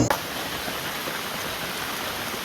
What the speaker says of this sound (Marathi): आणि पाऊस चालू झाला